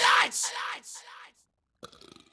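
A vocal tape from a song's recording session holds a single loud, close burp right at the start, trailing off into silence before a faint brief sound near the end.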